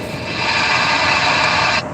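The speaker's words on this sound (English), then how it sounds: "That's squelching." Steady hiss of CB radio squelch noise, a dense broadband static rushing evenly and loud for nearly two seconds before cutting back slightly at the end, with no voices.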